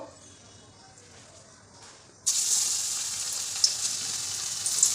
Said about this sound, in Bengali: এবার গরম তেলের মধ্যে ভেজে নেব মাছগুলো